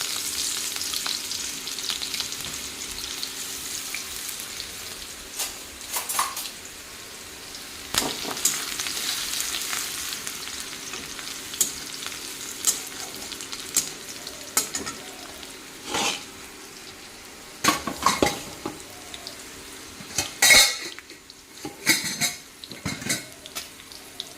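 Garlic and green chilli sizzle and fry in oil in a pan, with intermittent metal utensil scrapes and clinks as the pan is stirred; no talking.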